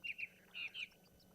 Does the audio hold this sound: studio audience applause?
no